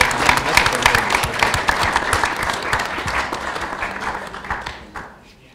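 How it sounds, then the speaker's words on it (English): A student debate audience breaks into steady, dense applause that holds strong for several seconds before fading out at the end. "Give them a big round of applause."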